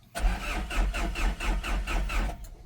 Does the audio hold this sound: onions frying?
no